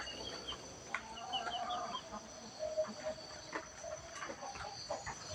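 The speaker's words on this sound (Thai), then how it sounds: "ก็ไก่อยู่ข้างนอกกุ๊กไก่กุ๊ก" Chickens at Wat Pong Chai temple in Chae Hom, Lampang, clucking softly and repeatedly at moderate distance in a quiet outdoor setting, with a few brief clicks and knocks among the calls.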